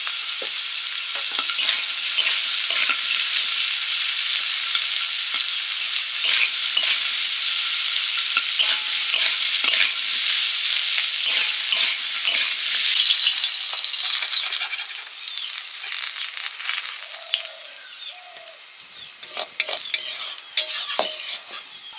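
Lightly pre-fried gime greens are tossed and stirred in a hot pan, with a loud continuous sizzle and repeated scraping and clinking of a metal utensil against the pan that eases toward the end.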